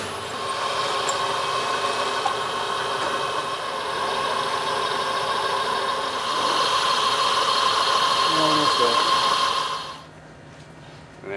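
A milling machine cuts a slot with an end mill while brakes are prepped for a Local Motors Cruiser, giving a steady high whine with a grinding hiss that grows louder midway, then stops abruptly near the end.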